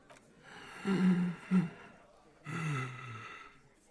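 A fat video game character breathes heavily in three labored gasps, close and fairly loud, with short pauses between them.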